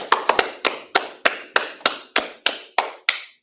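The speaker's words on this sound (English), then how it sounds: "clap it up" About a dozen sharp, evenly spaced hand claps ring out at a brisk, steady rhythm during a brotherhood class in Chicago, each crisp and close with a short decay, no talking.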